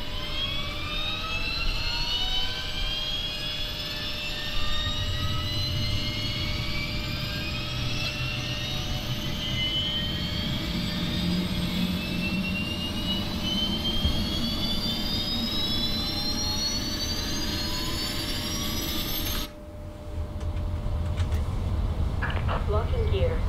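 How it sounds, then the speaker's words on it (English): An Oman Air airliner's auxiliary power unit runs in Microsoft Flight Simulator with a steady, loud jet whine and rising tones, holding continuously for about twenty seconds before a brief dip and return. Talk is heard over it. "Oh, that's the APU."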